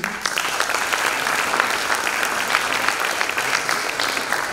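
Applause from an audience in a conservatory auditorium at the Prix Audiberti 2024 awards evening, a dense, steady wash of many hands clapping for the full length, fairly loud and even.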